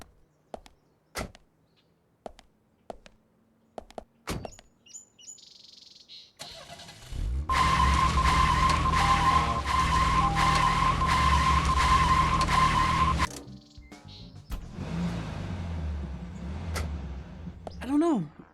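A car's tires screech in the Deadly Premonition video game, a loud sustained skid of about six seconds, with short clicks and faint voices before it and engine noise after.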